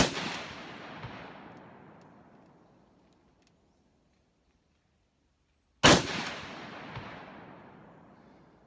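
Two loud rifle shots from an Olympic Arms 6.8 SPC rifle fitted with an SWFA scope, several seconds apart, each a sharp crack followed by a long rolling echo outdoors.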